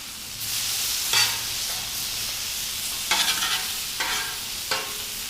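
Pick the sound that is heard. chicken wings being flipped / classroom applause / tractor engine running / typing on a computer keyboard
chicken wings being flipped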